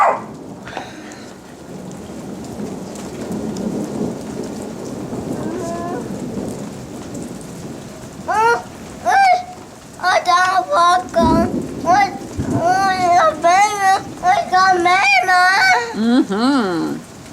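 A rain storm with thunder in Jordan, with steady rainfall and deep rumbling thunder. Adults and young children talk and exclaim over the storm throughout, the voices growing busier and closer later on.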